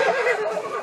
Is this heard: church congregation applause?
no